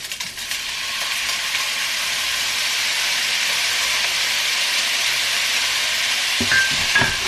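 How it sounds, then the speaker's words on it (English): Soy sauce being stirred into fried rice in a hot pan, a loud, steady sizzle that holds throughout, with a few scraping knocks near the end. "And then mix in the soy sauce."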